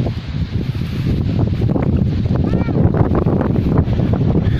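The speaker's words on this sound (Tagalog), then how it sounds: "Lakas ng hangin." Strong wind near a river in a rural village buffets the microphone in a continuous low roar, with faint voices in the background.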